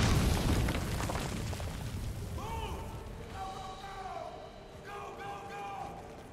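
Grenades explode in the video game Metal Gear Solid V: The Phantom Pain, a loud blast at the start rolling into a long decaying rumble, followed by voices talking over the fading noise.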